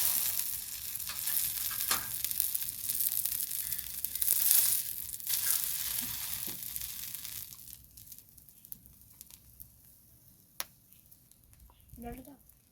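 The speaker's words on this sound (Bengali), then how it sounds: "আমি ঘি দিয়ে ভাজছি" Rohu fish pieces frying in ghee over low heat, a steady crackling sizzle that thins out midway, with a few sharp utensil clicks and brief scraping near the end.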